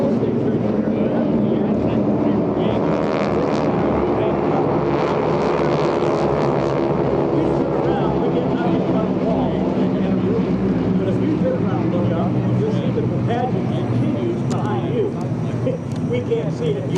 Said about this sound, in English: The Red Star aircraft. Chinese and Russian coastal training aircraft.